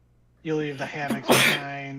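A sneeze bursts out partway through a tabletop role-playing game session, mixed in with ongoing talk and close to the microphone.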